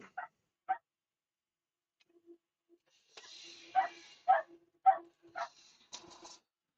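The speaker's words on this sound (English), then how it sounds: "That dog is going to get shot before long." A dog barks in a short series of sharp barks, first spaced out and then quicker, heard near a woodturning lathe with a quiet background.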